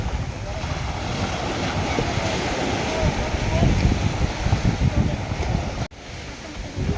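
Loud, constant roar of surf at Kunkeshwar beach in Maharashtra and wind buffeting the microphone, a dense wash of noise that swells slightly midway.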